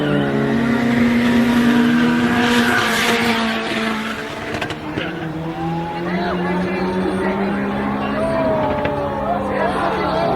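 A drag race with a white Porsche: loud engines rev and accelerate with a rising whine and some tire noise, while people talk and react excitedly over the racing.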